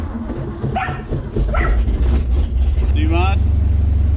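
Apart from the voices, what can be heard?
car engine running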